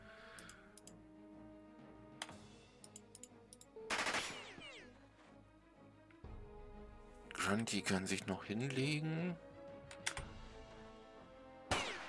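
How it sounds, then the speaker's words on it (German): Bursts of gunfire in the game Jagged Alliance 2 in short rapid volleys, mixed with clicking and someone talking quietly over the action. "der hat noch ein paar Schüsse rausbekommen"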